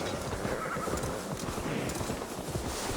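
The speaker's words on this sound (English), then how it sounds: "Now to deliver Magni his horse" Steady clip-clop of horse hooves with a horse whinnying partway through, continuous and fairly loud against a busy outdoor background, in the video game Assassin's Creed Valhalla.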